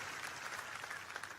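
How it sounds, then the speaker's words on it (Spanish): Church congregation applauding in worship during a Spanish-language sermon, a steady, dense wash of clapping that fills the space evenly without a break. "dile al Señor un aplauso de adoración por eso"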